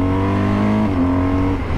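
A 136 hp BMW GS touring enduro motorcycle engine pulls hard with a steady, loud droning note whose pitch steps up partway through the short burst.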